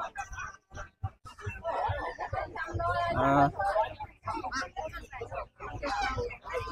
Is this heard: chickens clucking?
yes